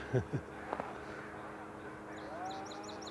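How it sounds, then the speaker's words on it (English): A song sparrow in a marsh sings a faint, distant run of quick repeated notes near the end, after a few louder calls and knocks at the start. "That's the song sparrow there."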